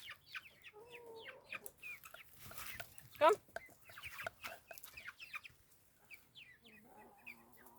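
A hen on a countryside farm clucks in short bursts near the listener, mixed with other poultry calls, while a person calls softly to the birds.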